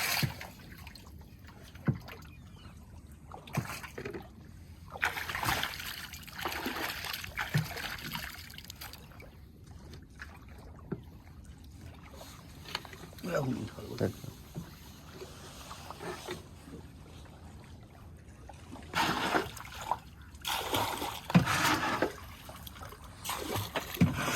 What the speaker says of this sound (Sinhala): ඉතින් මේ අයියා ඔරුව හොදන එක තමයි කරන්නේ